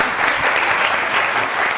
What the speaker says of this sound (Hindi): यस मैम के लिए तालियां बनती कि नहीं बनती?